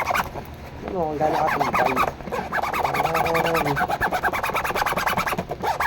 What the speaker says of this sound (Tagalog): tapos naka YKK zipper tayo guys ayan